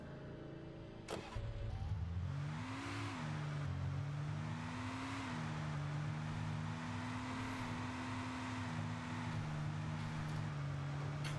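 In the video game Alan Wake Remastered, a car engine starts and revs, then holds a steady droning hum with small shifts in pitch.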